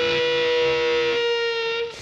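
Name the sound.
electric guitar with fuzz, double-stop bend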